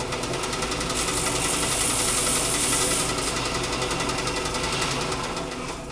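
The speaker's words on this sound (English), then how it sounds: "So I'm going to turn on the drum sander here, and I'll show you how I sand these feathers down." A drum sander grinds down turkey feathers for arrow fletching, a loud, continuous mechanical whirring buzz with a fast rhythmic flutter, easing off slightly at the end.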